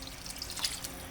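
Water is poured into a pot of squash, a brief soft splashing trickle that stays fairly faint throughout the short moment.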